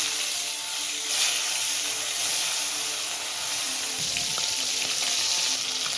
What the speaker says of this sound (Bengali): বন্ধুরা তেলটা গরম হয়ে গেছে, মাছটা দিয়ে দিচ্ছি। মাছটা ভাজবো।